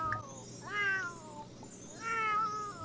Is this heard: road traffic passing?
no